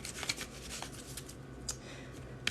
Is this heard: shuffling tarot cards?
yes